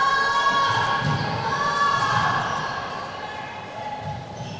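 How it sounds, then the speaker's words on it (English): A crowd at an under-17 netball match between the UAE and Northern Ireland in the European championship cheers and shouts steadily at a moderate distance, with a ball thudding now and then and a sustained tone running underneath. "the crowd are very much waking up"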